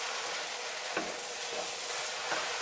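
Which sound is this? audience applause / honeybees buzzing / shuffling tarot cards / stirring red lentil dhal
stirring red lentil dhal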